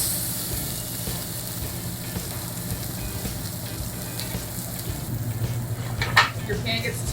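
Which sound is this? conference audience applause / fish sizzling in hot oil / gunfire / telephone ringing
fish sizzling in hot oil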